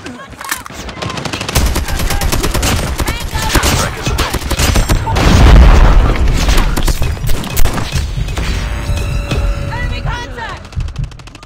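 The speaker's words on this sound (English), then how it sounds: "Sentry gun deployed." A deployed sentry gun in Call of Duty Mobile fires loud, rapid automatic bursts that run through most of the stretch. Heavier booms and crashes land around the middle, and game voice callouts sound over the shooting.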